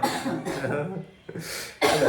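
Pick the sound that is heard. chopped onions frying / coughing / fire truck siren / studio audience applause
coughing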